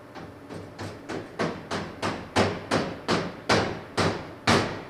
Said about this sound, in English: Let me get a hammer, knock it up through there.